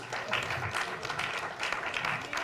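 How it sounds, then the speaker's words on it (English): An audience at a small-business bootcamp event gives a round of applause, steady, fairly close clapping that continues without a break and with some crowd murmur underneath. "Please, can you give them a round of applause?"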